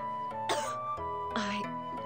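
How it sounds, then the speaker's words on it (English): A character coughs in the Naruto Shippuden Ultimate Ninja 4 video game, two harsh, close coughs about a second apart over a faint steady background tone. "don't be coughing on my face"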